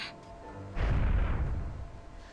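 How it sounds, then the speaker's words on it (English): A deep cannon boom from the Toba-Fushimi battle in the game Hakuoki swells loudly and rolls on as a rumbling roar behind a faint musical tone, with no voices. "behind us was the repeating boom of cannon fire"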